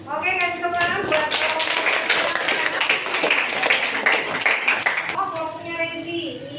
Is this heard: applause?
yes